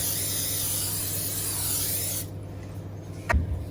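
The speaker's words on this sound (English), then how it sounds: "I like to coat everything with Baker's Joy because I can't really parchment this up." Baker's Joy baking spray hissing steadily onto a bundt pan for about two seconds, close and loud, followed by quiet and a brief knock.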